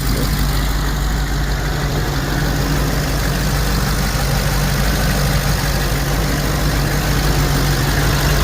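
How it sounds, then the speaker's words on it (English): A steady V8 engine (LQ4 6.0 in a Yukon) idles loudly and continuously, a low rumble with a busy ticking clatter from loud 32-pound fuel injectors layered on top, no voices. "32-pound injectors are a little bit on the loud side"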